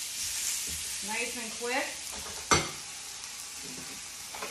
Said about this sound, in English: So I'm gonna grill up this chicken on the grill here.